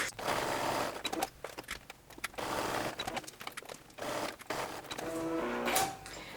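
A sewing machine stitches the corners of a vinyl makeup bag in quick rapid bursts of whirring needle action separated by brief pauses, close and fairly loud, with a few mechanical clicks.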